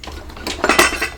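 Metal cutlery clinks and rattles as someone rummages through a kitchen utensil drawer looking for a rubber whisk. The light clattering is close and irregular and builds toward the end.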